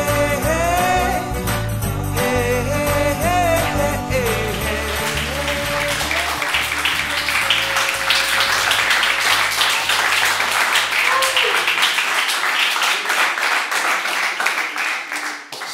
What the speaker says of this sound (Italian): Bravo, applauso.